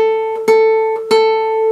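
Single guitar note with poor finger position, buzzing and choked, plucked twice with a sharp attack each time, close and fairly loud with no talk.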